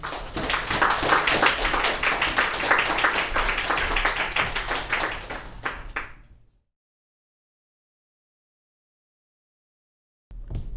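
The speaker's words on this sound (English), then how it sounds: "So let's give a round of applause to Ho Poh Fun." An audience gives dense, even applause at a book launch event for about six seconds, then it stops abruptly into silence. Clapping resumes briefly at the very end.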